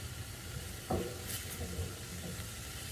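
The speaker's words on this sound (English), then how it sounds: "give it a little stir" Kale is stirred in a pan on a gas stove, heard as a quiet sizzle with a couple of soft spatula scrapes around the middle; no one talks.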